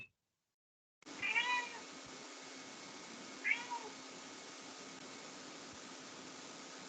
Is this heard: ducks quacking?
no